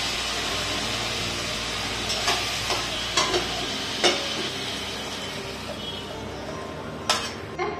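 Paneer sautéing over a high gas flame in a pan, a loud continuous sizzle with several sharp clinks and scrapes of a spoon against the metal as the pieces are tossed, no talking.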